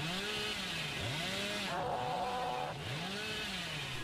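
A chainsaw in the Dead by Daylight horror game revs in repeated rising and falling surges, a steady buzzing roar that sits close and loud over the game's ambience.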